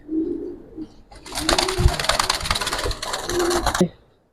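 Giribaz khaki pigeons coo at close range, soft throaty calls at the start and end framing a burst of loud wing flapping or cage rustling in the middle.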